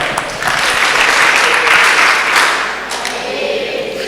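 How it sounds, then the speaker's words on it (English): Audience at an Elangeni TVET College presentation gives a Bayete-style round of applause, a dense, steady burst of many hands clapping together that holds for about four seconds before easing slightly. "Let's give him a Bayete kind of a clap."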